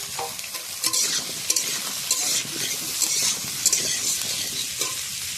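Snake gourd and potatoes stir-fry in oil with cumin and dried red chilli in a pan, giving a steady close sizzle broken by scraping stirs throughout, with no talking.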